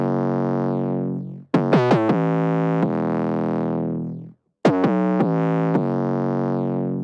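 Heavily saturated synth line processed through parallel Decapitator distortion focused on the highs, bright buzzy sustained notes with quick stuttering note changes, heard alone in two phrases separated by a short silence.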